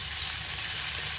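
Pork and pork meatballs stir-fried with red curry paste in a hot pan give off a steady, close, dense sizzle with no pauses.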